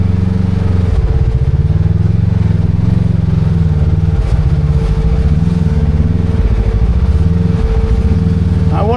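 Loud, continuous engine drone of a Kawasaki KRX 1000 UTV fitted with an RNG Performance clutch kit and 35-inch tires, driving in high gear over trail terrain, with the pitch rising and falling as the throttle varies.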